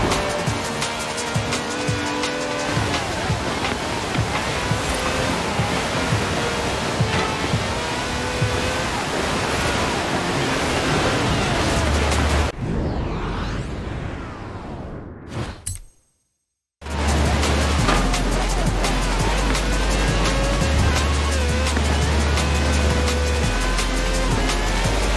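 Powerful V12 engine of over 750 horsepower drives hard in Forza Horizon 4, a loud continuous roar with tire squeal, briefly cut to a whooshing pass and a moment of silence before resuming at full volume.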